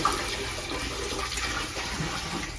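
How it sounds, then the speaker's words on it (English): Water splashing and trickling from a big soaked gold sponge during a rinseless car wash with McKee's 37, a steady close wet rush lasting the whole moment, no talk. "for the big gold sponge, as you can see, it holds a ton of water"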